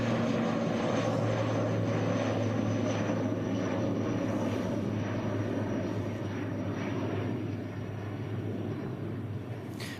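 Fixed-wing propeller aircraft on flight 5772 to Napier at Christchurch Airport, a steady loud engine drone with a low hum holding throughout, easing slightly toward the end.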